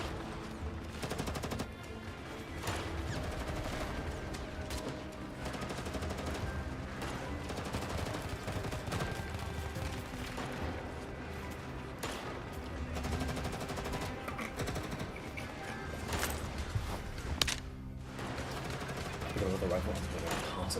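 Rifle gunfire in GFL2 Exilium, dense rapid bursts of shots in a busy combat mix with talking over the top, continuous and fairly loud throughout.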